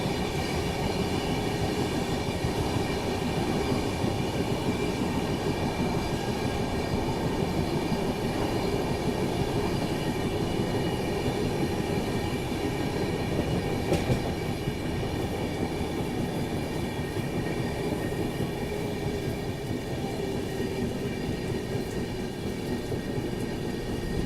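Passenger train running on rails just after leaving Kota, Rajasthan, a steady loud rumble and rattle of the wheels heard from inside the carriage, continuous and unbroken with no talk.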